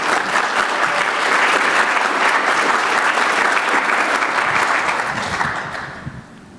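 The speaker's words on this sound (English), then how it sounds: "Okay, hand applause for Heather." Conference audience applauding, dense sustained clapping from a crowd lasting about five seconds before tapering off at the end.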